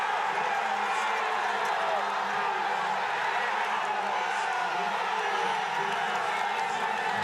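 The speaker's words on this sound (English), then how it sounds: "I've been in situations where the crowd are yelling that close" Roadside fans yell and cheer densely along a gravel road race climb, a loud continuous wall of crowd noise without break throughout.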